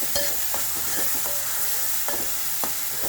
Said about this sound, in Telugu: ఇప్పుడు మనకైతే ఆనియన్స్ అయితే ఫ్రై అయ్యాయి కాబట్టి మసాలా ఆనియన్ పేస్ట్ అయితే దీంట్లో యాడ్ చేసుకోవాలి. సో దీన్ని మిక్స్ చేసుకోవాలి.